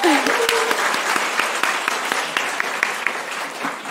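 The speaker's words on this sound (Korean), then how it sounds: "한번 박수 한번" A crowd at a school admissions information session breaks into warm applause, a dense patter of many hands clapping that carries on steadily for a few seconds.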